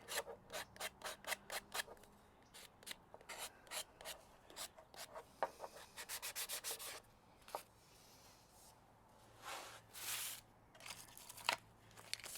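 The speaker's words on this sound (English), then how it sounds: "Now I'm going to take some sandpaper, kind of smooth that out a little bit." Close, quiet rasping strokes of hand sandpaper smoothing belt-sander scratches from wood, first in quick regular passes, then slower and more irregular scrubbing.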